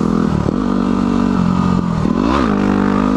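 A motorcycle in sixth gear runs near wide open throttle, a loud close engine drone whose pitch rises and dips briefly as it pulls.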